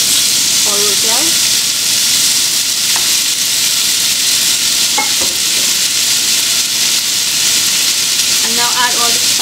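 Boiled sorrel, or roselle, sizzles and hisses steadily in a hot pan, a loud continuous frying crackle with a few brief clinks of stirring.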